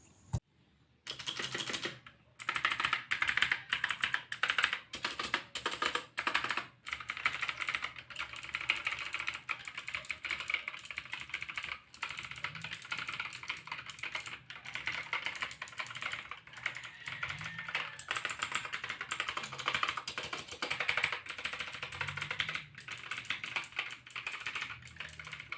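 Rapid typing on a Gigaware K28 mechanical keyboard, a close, continuous stream of crisp clicky keystrokes with brief pauses, heard alone without talk.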